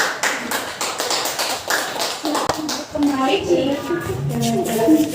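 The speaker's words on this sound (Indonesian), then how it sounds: "Kita beri aplaus kepada kelompok 3." Classroom children clap for group 3 in a burst of applause that fades into voices and faint singing-like tones, recorded fairly close in a school room.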